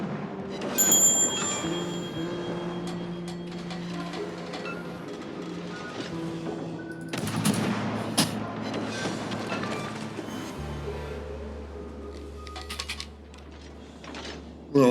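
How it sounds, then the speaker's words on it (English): Naval gunfire and torpedo launches from ships in World of Warships, including the USS Phoenix, boom and clatter in quick succession over steady game background noise, with a low drone settling in near the end. "All these ships firing off torpedoes right at me just like this."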